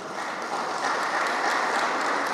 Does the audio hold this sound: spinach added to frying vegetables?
no